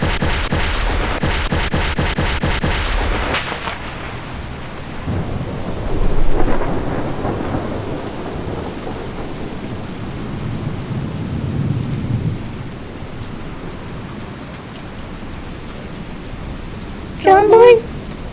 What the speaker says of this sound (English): This storm's really got me scared